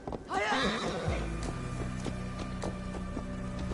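A horse in the video game Assassin's Creed Valhalla gives a loud, close whinny, then its hooves clip-clop in a steady walking rhythm under a constant low ambient hum.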